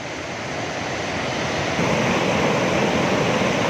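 The Neelum river (Kishan Ganga) rushing in Neelum valley, a loud, dense, continuous roar of flowing water close by that swells slightly partway through.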